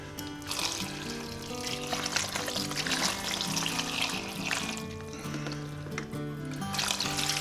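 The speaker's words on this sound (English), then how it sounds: "I don't know how much vinegar that is" Vinegar poured over rinsed pork for sisig, a steady close liquid splash and trickle with kitchen sizzle-like hiss, continuous and fairly loud without talk.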